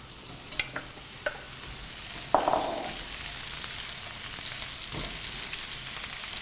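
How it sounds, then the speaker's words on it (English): Fish cakes frying gently in a hot pan make a soft, continuous sizzle, with a few sharp clinks and scrapes of utensils near the start. "Just nice gentle fry."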